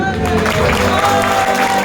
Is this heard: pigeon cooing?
no